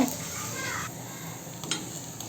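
Ragi vada frying in a pan over a low flame makes a steady, close hiss and sizzle that runs the whole time, with a faint scrape or two.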